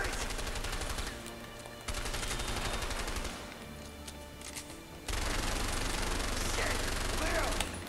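Gunfire in the co-op video game A Way Out comes as rapid, loud bursts of shots that mix with other game sounds and fill most of the few seconds.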